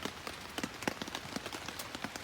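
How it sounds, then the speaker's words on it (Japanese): Rain falls steadily at a lakeside campsite during a typhoon, with a dense patter of close drops striking a surface, some sharper than others, and no talk over it. "雨が降ってるんですけど"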